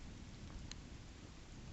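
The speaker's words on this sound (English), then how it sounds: "Now the rain's coming back." Steady rain during a rainstorm in Manson, Washington, a continuous broadband hiss of falling water and runoff that stays even throughout, fairly quiet, with a single faint tap standing out briefly.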